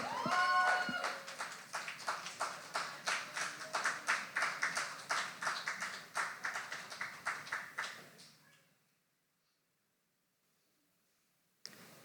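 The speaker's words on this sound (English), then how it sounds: "Keep the applause going for your next up, True." An audience at a poetry slam claps in a steady, rhythmic burst that swells and then fades out over about eight seconds, followed by near silence.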